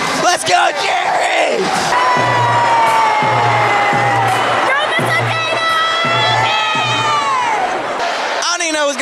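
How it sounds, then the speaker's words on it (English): A large crowd of students screams, cheers and whoops at a school pep rally, loud and continuous throughout, with rhythmic low chanting pulses beneath the shouting. "There's a lot of people screaming, and we're having a great time."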